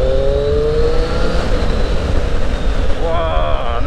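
A Triumph Street Triple 660 S motorcycle engine echoing in a tunnel, a loud droning note that rises in pitch as it revs, with a second rising whine near the end.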